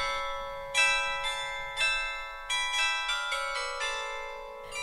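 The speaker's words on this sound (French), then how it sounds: "un carillon de 18 cloches qui sonne toutes les demi-heures depuis 1978" An 18-bell church tower carillon, ringing every half hour since 1978, plays Ode to Joy as a slow melody of bright, ringing bell strokes that overlap and sustain, heard clearly from outside without talk.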